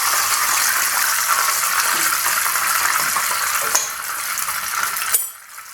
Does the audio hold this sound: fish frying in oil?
yes